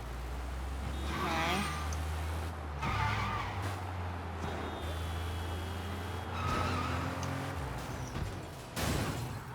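A car in the game Sleeping Dogs revs and accelerates with tires skidding and squealing under braking, the engine drone steady and loud throughout while someone talks over it.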